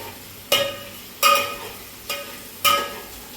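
A spatula stirs spiced masala rice with fresh coriander and potato in a pan, making four separate, evenly spaced scraping strokes, each a short rasp that fades quickly, with no voices.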